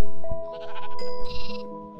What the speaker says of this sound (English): The farm is ready to let the sheep in, but the sheep are not ready to go inside the farm.